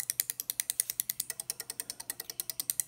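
An Arduino-driven music device built from a 14-relay module clicks in a fast, steady rhythm, with about ten crisp mechanical ticks per second over a faint low hum, close and fairly quiet.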